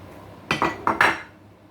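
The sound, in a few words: stirring onions in a pot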